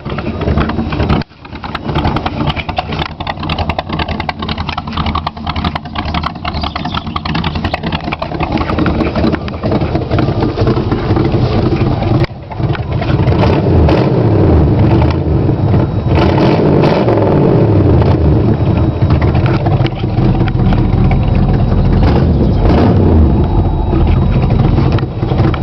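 A 1984 Chevrolet El Camino with a 305 V8 starting up, then idling with a loud, rough rumble and repeated throttle blips into revs, close to the exhaust.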